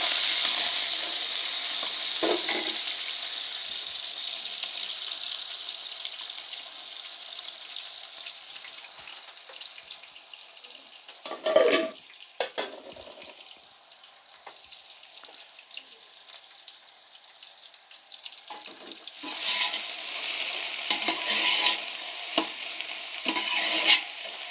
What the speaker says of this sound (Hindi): अभी अपना स्लाइस किया हुआ प्याज ऐड कर देंगे।